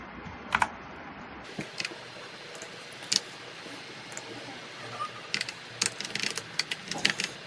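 Computer keyboard keys click in scattered short bursts while someone works in a spreadsheet, quiet close taps over a faint background hiss, with no voices.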